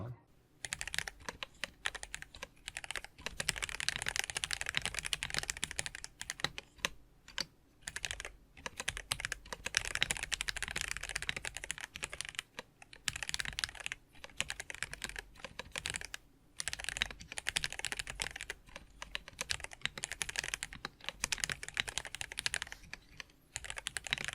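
Rapid clacking of a Dareu A98 gasket-mount hot-swap mechanical keyboard with Coral switches, dense and continuous bursts of typing with brief pauses, close and crisp.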